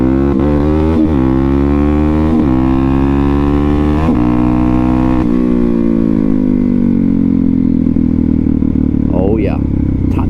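A Suzuki DRZ400SM supermoto fitted with an FCR39 carburetor revs up and accelerates through the gears in snowy conditions, its loud close engine note climbing in pitch with several shift drops, under a continuous steady roar.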